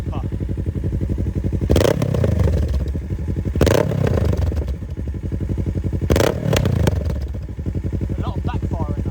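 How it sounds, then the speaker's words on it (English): Kawasaki Z650RS motorcycle fitted with an aftermarket full exhaust system idles loud and close, its deep lumpy rumble broken by three sharp bursts of revving around two-second intervals, with crackling pops on the overrun. "A lot of backfiring though."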